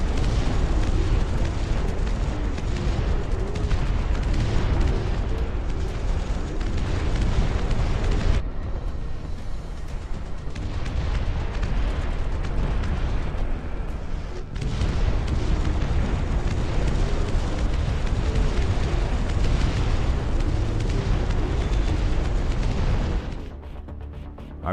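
Airstrike explosions rumble through a Dust Front RTS battle: dense, continuous booms and blasts pile up loudly for over twenty seconds, easing briefly midway and fading out near the end, with no voices.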